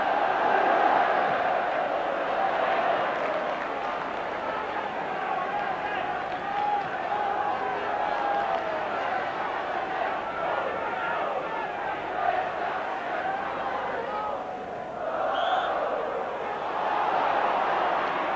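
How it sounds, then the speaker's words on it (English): Large football crowd at a Liverpool versus Manchester United First Division match, a steady loud roar of many voices with chanting swells, continuous throughout and slightly dipping near the end. "Large crowd enthralled by this now"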